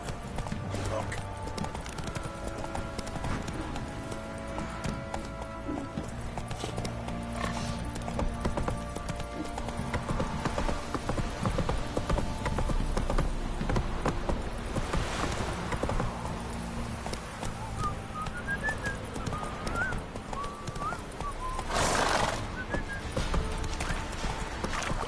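Hoofbeats from a horse in the video game Witcher 3 clop along steadily while the horse neighs and whinnies. Someone speaks over the sound, and a louder burst comes near the end.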